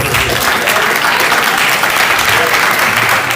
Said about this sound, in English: Let's clap it up for our males.